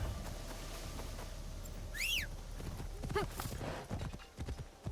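Horse hooves clip-clop in Assassin's Creed Shadows, a quiet, steady hoofbeat rhythm with whistling and a brief whinny-like call over a soft ambient bed.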